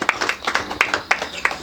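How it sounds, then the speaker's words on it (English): Church congregation clapping hands, a series of distinct sharp claps at an uneven rhythm, roughly a dozen over a second and a half, close and fairly loud. "Clap your hands."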